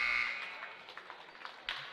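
A basketball game buzzer sounds to end the half at a high school boys' game, a sharp electronic tone at the start that drops away into faint crowd murmur and scattered gym noise.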